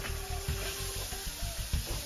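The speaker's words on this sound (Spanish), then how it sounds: "para mientras Emma está friendo los pescados" Fish frying in a pan for a Lent-season battered fish dish, a steady close sizzle and crackle with soft stirring scrapes and spoon bumps throughout, no talking.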